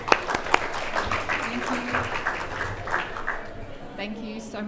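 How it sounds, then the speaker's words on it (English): An audience at a banking conference applauds speakers onto the stage, steady moderate clapping that fades slightly toward the end, with a few sharper claps near the start and a voice beginning underneath. "let's give them a round of applause to welcome them to the stage"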